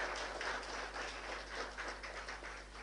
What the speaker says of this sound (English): I invite you all to join me in applauding their efforts